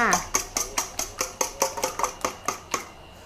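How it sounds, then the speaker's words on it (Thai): Raw eggs seasoned with fish sauce are whisked briskly in a bowl for a Thai omelette, giving about fourteen evenly spaced clinking beats of a utensil against the bowl, close and clear, with no talk. "ไข่กันก็จะฉีดน้ำปลาลงไปหน่อยหนึ่งเพิ่มความหอม ให้ไข่มันมีรสชาติ แล้วตีเหมือนไข่เจียวเลยจ้า"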